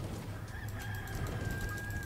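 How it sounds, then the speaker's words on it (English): Chicken clucking in the video game D4: Dark Dreams Don't Die, soft repeated clucks over a steady background hum, fairly close and moderately quiet. "It's just a chicken."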